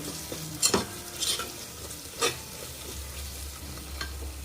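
Biryani masala with turmeric fries in a pot while a spoon stirs it, a low steady sizzle broken by a few soft scraping clinks from the utensil, close and without talk.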